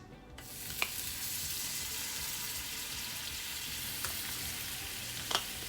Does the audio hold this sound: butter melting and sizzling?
yes